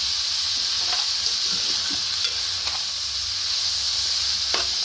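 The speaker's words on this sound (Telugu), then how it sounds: "వీటిని తీసి పక్కన పెట్టేసుకొని మనం ఆనియన్స్ ఫ్రై చేసుకోవడమే" Chopped onions sizzling loudly in hot oil in a pan with a steady frying hiss, broken by the occasional scrape of a spoon stirring them.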